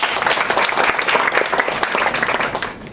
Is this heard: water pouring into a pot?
no